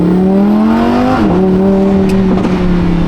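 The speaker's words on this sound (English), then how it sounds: "Pops and bangs" A Lamborghini engine roars loudly and steadily up close, its tone rising and then dropping as it shifts, with faint crackles near the end and no voices.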